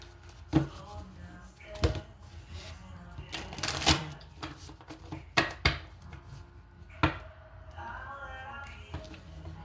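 A deck of tarot cards is shuffled in a few sharp, brief riffling bursts separated by pauses, close to the microphone, with quiet talk in between.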